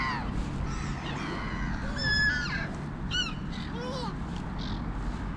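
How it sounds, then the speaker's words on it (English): Gulls in a parking lot give several loud, harsh calls and squawks over steady traffic or wind noise, with overlapping cries from more than one bird. "Beautiful, beautiful gulls."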